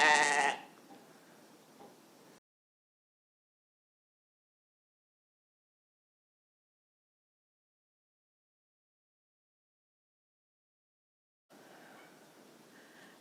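At a farm, a sheep lets out one loud, close bleat at the start, followed by quieter ambient sounds. After a long silent gap, faint background noise returns with no further clear call.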